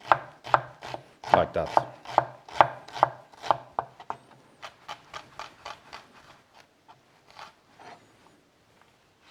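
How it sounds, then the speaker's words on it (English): A knife chops food finely on a cutting board, with a quick run of sharp, close taps that start loud and rhythmic, then gradually thin out and fade; a voice speaks briefly. "And we just want to chop it finely."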